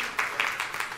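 Short rhythmic bursts of clapping from a church congregation praising God, four quick even beats in a row, moderately loud and close.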